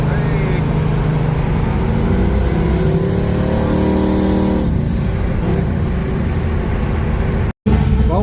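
Car cruising down the highway after a radiator repair, a loud steady road and engine roar with a rising tone as it accelerates, continuous throughout with a brief dropout near the end.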